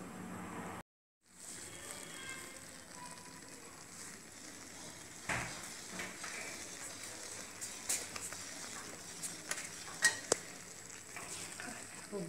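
Ghee simmering from milk cream in a pan, a steady low sizzle and bubbling with occasional stirring scrapes and clinks of a utensil against the pan, close by.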